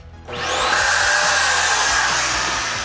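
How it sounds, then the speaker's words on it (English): A built-in toe-kick sweep vacuum in a 2023 Forest River Surveyor Legend 276BHLE travel trailer switches on with a sudden whoosh, then holds a loud, steady motor whine with airy rushing, close by and unaccompanied by speech. "it's a vacuum bag system, so you're going to have all the debris is going to go in that vacuum bag"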